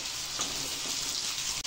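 A large crushed potato fries in a pan with a little cumin, producing a continuous close hissing sizzle with small pops throughout, unbroken and without speech.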